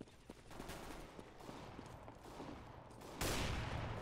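Gunfire in a first-person shooter game rattles in dense, continuous bursts of rapid shots close up, with a louder, harsher burst breaking in near the end.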